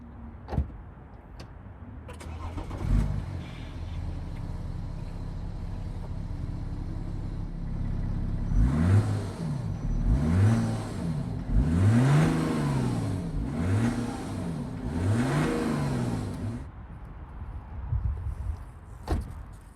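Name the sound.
twin turbo diesel car engine starting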